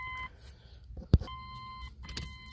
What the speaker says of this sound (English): Oh, that annoying buzzer. I gotta change that.